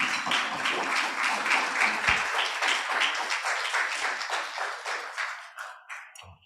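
Sustained audience applause at a healthcare summit, dense steady clapping from many hands that carries on for several seconds and then thins out and fades near the end, with no talking over it.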